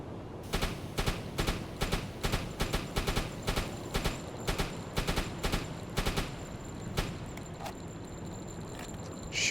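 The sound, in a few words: naval guns firing high explosive shells, from a video game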